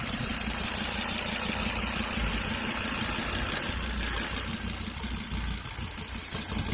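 A 2001 Volvo V70 engine idling steadily after a cold start, a close, even mechanical hum with a low rumble, running alone without talk and easing slightly in loudness toward the end.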